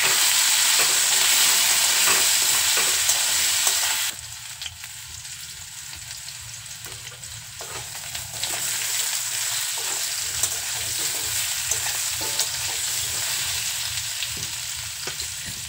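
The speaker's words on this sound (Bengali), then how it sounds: "এবার গাঁটি কচুটা খুব ভালো করে ভেজে নিতে হবে।" Gathi kochu (taro) frying in hot oil with turmeric and salt gives a constant close sizzle; it drops quieter partway through, then resumes with soft stirring scrapes and bubbling.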